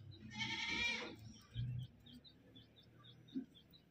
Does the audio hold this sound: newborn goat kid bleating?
yes